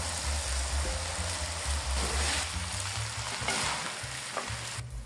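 Chicken chow mein noodles are stir-fried with vegetables in a hot pan, a continuous loud sizzle with scraping stirring and tossing all the way through, and no voice.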